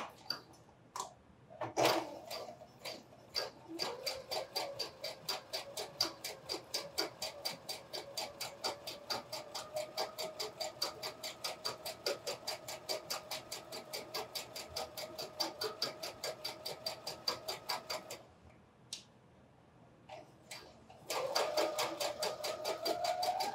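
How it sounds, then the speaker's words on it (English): A sewing machine runs a single top stitch line at 3.5 stitch length along a fold, with a fast, even ticking rhythm close by that goes on for most of the time, pauses briefly, then resumes. "take this over to the machine and we'll sew a top stitch."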